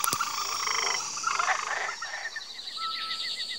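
A frog croaks in a wild outdoor setting, a run of rapid raspy calls over faint natural ambience, fairly close and moderately loud, with a few sharper clicks.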